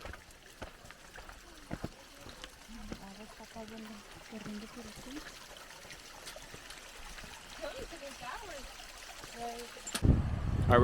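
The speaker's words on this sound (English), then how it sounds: "It's like a little waterfall here." A small waterfall on a mountain hiking trail, a steady rushing trickle of water running beneath a voice, ending in a sudden loud gust or handling noise.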